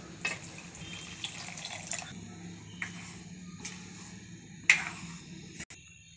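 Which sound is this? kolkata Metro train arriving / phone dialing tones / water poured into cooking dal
water poured into cooking dal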